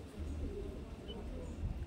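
Madrasi pigeon with a low throaty coo rumbling close by, partly mixed with someone talking over it.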